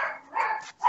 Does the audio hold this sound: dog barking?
yes